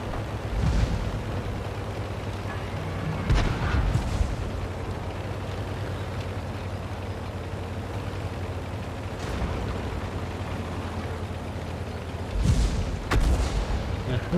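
Shells and gunfire strike a player's tank in a video game as scattered booming impacts over a constant low engine drone, with heavier hits near the start, middle and end and voices faintly underneath.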